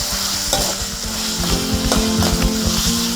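Tomato pieces frying in a pan give a steady loud sizzle, with scraping stirs and light clinks of a utensil against the pan throughout.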